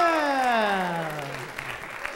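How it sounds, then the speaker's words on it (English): Audience applause for a folk band, steady and fairly close, with a loud voiced whoop sliding downward over the clapping at the start before the crowd noise thins. "please give them a round of applause"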